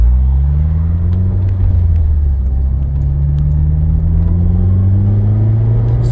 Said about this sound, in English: we're gonna go third gear pull, and you'll definitely be able to hear VTEC kick in for sure